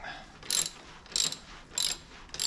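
Ratchet wrench tightening bolts during a car brake repair, heard as four short bursts of rapid clicking spaced about half a second apart, close and fairly quiet.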